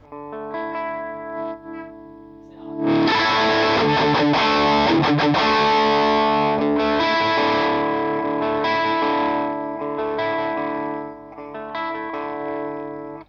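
Electric guitar chords through a Mesa Boogie Mark IIC+ tube amp ring out with a slightly gritty, driven pseudo-clean tone, sustained strums building loudly after a quieter opening, with lingering decay.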